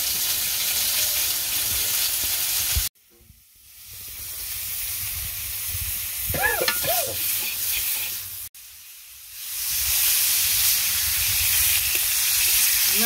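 Pointed gourd (potol bhaji) fries in a pan: a loud, steady, close sizzle and hiss, broken by two abrupt cut-outs, with faint stirring noises in between.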